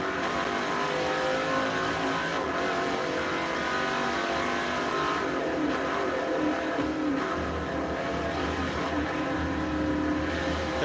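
A race car engine drones continuously in the Forza Motorsport 4 video game on Xbox 360, loud and sustained, with the revs rising and falling slightly throughout.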